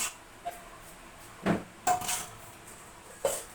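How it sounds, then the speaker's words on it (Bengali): Dishes and pots being washed in a home kitchen, with a handful of separate metallic clanks and knocks spaced a second or so apart, close by and with no talking. "এখন বাসন বাসনগুলো মেজে নেব"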